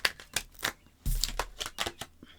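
A deck of playing cards being shuffled: several quick riffling bursts with sharp snaps as the cards fall together, close and crisp, with no talking.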